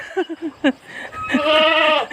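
Goats bleating at a large goat and sheep farm in the former transmigration area of Rimbo Bujang: several short close bleats in a row, then one long, loud, wavering bleat.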